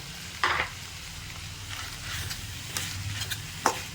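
Minced mutton keema fries in a pan under a soft, steady sizzle, broken by several sharp scrapes and clinks of stirring at uneven intervals, fairly quiet.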